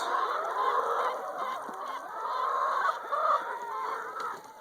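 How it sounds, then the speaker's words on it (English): A large flock of about 450 chickens crowds together at feeding time, a dense continuous chorus of clucks, squawks and honking calls, close and loud, with no talk over it. "what we have here, this is 450 birds."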